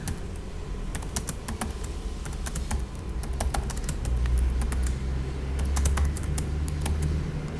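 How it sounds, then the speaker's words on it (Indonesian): Keys clatter on a computer keyboard during manual data entry into a spreadsheet, a steady run of quick, close clicks with faint room hum underneath. "Kemudian pada kolom ini diketik manual."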